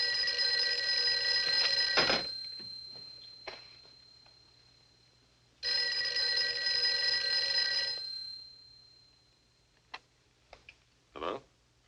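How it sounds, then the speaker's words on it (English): A bell telephone in a 1948 film rings in two long, loud electric bursts separated by a pause, followed by a few faint clicks and knocks. "I was just going to the phone"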